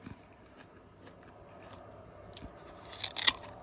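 Someone bites into a crunchy Israeli pear, with a quiet, close lull and then a few crisp crunching bites near the end, and no talking.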